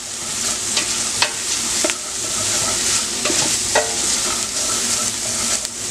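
Seasoned turkey sizzles in a pot for turkey noodle soup. A steady frying hiss runs throughout, broken by irregular scrapes and clinks of a utensil stirring against the pot, with no talking.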